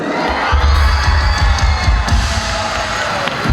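A concert crowd at a live band show at Lotus North Ratchaphruek cheers and shouts loudly, with excited whoops and high voices blending into one continuous roar.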